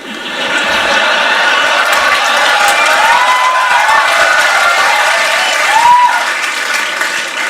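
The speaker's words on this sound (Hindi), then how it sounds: "भाई तुम जितनी मर्जी ताली बजा लो" Loud, sustained audience applause mixed with cheering and whoops at a business motivational talk, a dense crowd sound running the whole stretch with a brief shrill whistle or shout near the end.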